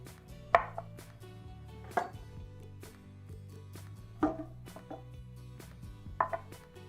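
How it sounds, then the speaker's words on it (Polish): A knife cutting a whole head of garlic in half on a board, four or five sharp cutting knocks at uneven intervals over a quiet kitchen background. "Wrzucam główkę czosnku, tylko przekrajam na pół"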